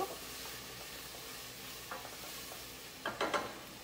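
A pot of shrimp and onion being stirred over heat, with soft scraping and a steady sizzle throughout, plus a few brief louder stirring clatters near the end; no talking.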